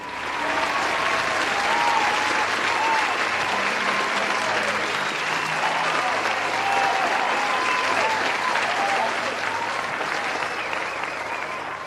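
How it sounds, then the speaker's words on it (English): A large awards-ceremony crowd claps loudly and continuously, with a few voices and cheers mixed into the sustained applause. "We all please give these warriors a huge round of applause"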